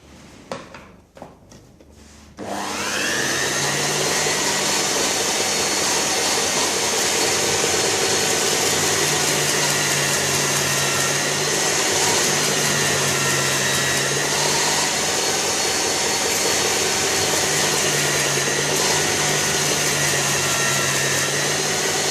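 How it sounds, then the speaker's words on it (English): A belt sander grinds an old chisel, starting after a short pause and then running as a loud, steady, continuous whir with a constant high whine and no talking. "then it's on with the belt sander and give it a go"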